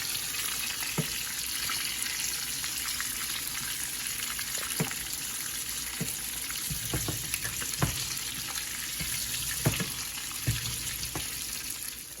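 Salmon fillet frying in a pan and basted with a butter sauce, giving a steady broadband sizzle with scattered pops and spoon scrapes throughout, close and continuous with no talking.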